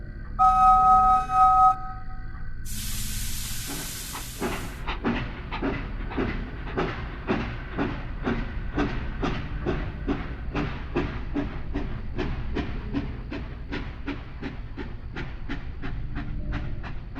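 A train rolls steadily along the rails with a continuous, regular clickety-clack of wheels over rail joints, preceded by a brief whistle-like tone and a burst of hissing steam at the start.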